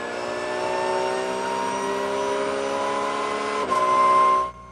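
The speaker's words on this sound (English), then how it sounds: "you're going to let the car rotate and then pick up the throttle and try to bring the car back down to the inside edge" A race car holds a steady, loud engine note at speed through a long corner, then shifts and builds revs sharply near the end before cutting off abruptly; no talk.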